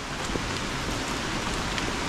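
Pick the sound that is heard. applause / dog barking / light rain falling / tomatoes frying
light rain falling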